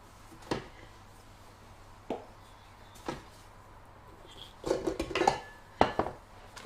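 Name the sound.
scraping down cake batter in a mixing bowl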